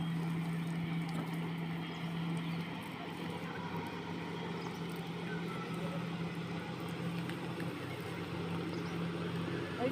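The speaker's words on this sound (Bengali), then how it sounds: "ওই যে বন্ধুরা দেখো একটা স্পিড বোট যাচ্ছে" A speedboat's engine drones steadily across open water, a continuous low hum heard from a moderate distance with wind and boat noise around it.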